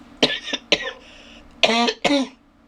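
Four loud, sharp bursts of coughing close by, the first two quicker and the last two harsher, separated by brief pauses.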